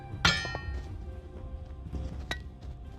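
Grandma's vase in the video game The Walking Dead: Saints and Sinners gives a sharp metallic clang when struck, then a second fainter clink a couple of seconds later over a low ambient hum.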